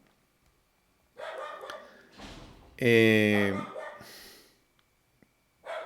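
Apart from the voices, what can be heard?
dog barking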